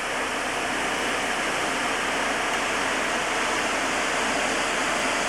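A waterfall along the Eagle Falls Trail in the Columbia River Gorge, roaring as a loud, steady broadband rush of falling water with no pauses or talk.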